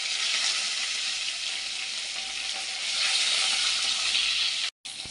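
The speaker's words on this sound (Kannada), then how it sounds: "ಇವಾಗ ನಾನು ಜೀರಿಗೆ ಹಾಕೋತಾ ಇದ್ದೀನಿ, ಆಮೇಲೆ ಕರ್ಬೇವಿನ ಸೊಪ್ಪು, ಹಸಿಮೆಣಸಿನ್ಕಾಯಿ" Cumin seeds, curry leaves and green chillies crackle in hot oil for onion sagu, a loud, steady hiss of frying that swells slightly midway and drops out briefly near the end.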